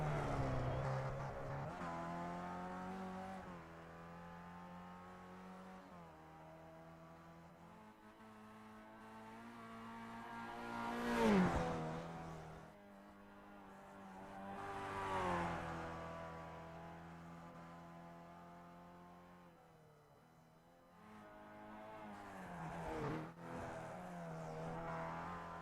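Race cars in a sim race at the Nürburgring Nordschleife, engines droning and revving through gear changes, with several cars swelling louder as they pass close and fading away between passes.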